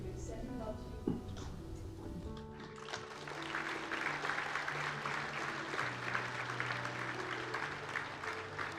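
Audience applause fills the arena at a high school hockey game, New Richmond at Eau Claire Memorial, a steady broad clatter rising after a few seconds of music and crowd noise and holding loud to the end.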